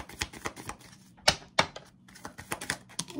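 A tarot deck of Romance Angels cards being riffled and shuffled by hand, a run of sharp, close flapping bursts with a few louder snaps, heard alone without talk.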